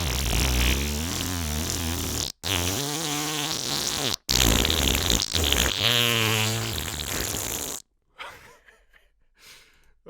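A person blows long, wet, buzzing fart noises with their mouth into a phone microphone, several drawn-out bursts separated by brief pauses, ending in quieter breathy sputters; the voice imitates the sound.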